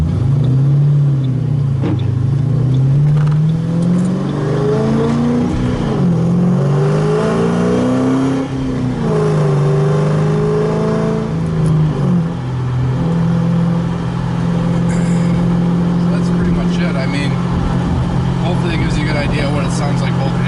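A 2006 Ford Mustang GT with a loud Borla ATAK exhaust and X-pipe revs up and down in low rumbling swells, then settles into a loud steady drone.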